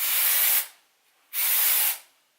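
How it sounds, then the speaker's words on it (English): Two long hissing bursts of an aerosol dry shampoo spray, close by, separated by a brief pause. "I'm just going to go ahead and spray that pretty much all on the bottom"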